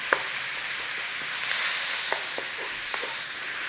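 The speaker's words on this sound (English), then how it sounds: "Break it up, cook it off." Minced meat sizzles steadily in a hot pan as it is broken up, with a constant frying hiss and a few soft taps and scrapes of a utensil.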